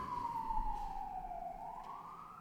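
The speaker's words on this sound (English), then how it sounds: "because the siren" An emergency vehicle siren wails outside a zoning board meeting room, a sliding tone falling then rising again, moderately distant and steady with no voices over it.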